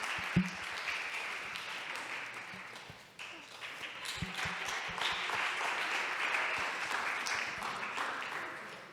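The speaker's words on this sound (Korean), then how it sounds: "박수로 환영해 주세요." A church congregation at a youth worship service gives welcoming applause, a soft, steady spread of clapping from many hands that continues evenly and stays fairly faint.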